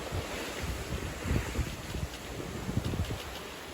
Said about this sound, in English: We've still got waves